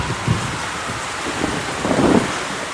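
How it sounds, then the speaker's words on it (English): Heavy rain pours steadily as a dense, hissing wash of noise, swelling slightly louder near the end, with no voices. "Whoa, that rain is really heavy."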